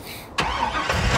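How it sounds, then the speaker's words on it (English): A vehicle engine in the Farming Simulator 19 video game cranks and catches at once, then settles into a steady, loud mid-pitched running hum that fills the rest of the moment. "All the sounds, the crank up sounds and startup, engine startup and stuff, all sound pretty good."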